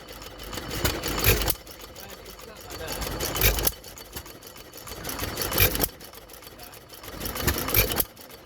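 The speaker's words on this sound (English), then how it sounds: "Here we have a Fairbanks Morse, and as the owner has just said, a headless engine." A headless Fairbanks Morse hit-and-miss petrol engine from about 1916, open crank, drives a Lister water pump at an outdoor show, firing in four evenly spaced loud bursts with quieter coasting between them.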